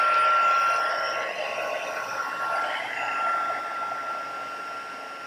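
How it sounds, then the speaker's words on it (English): Handheld heat tool for card stamping and embossing, warming up with a steady whirring fan hiss and a faint whine, close by, constant for several seconds with no speech. "I'm going to get my heat tool. Let it warm up for a minute."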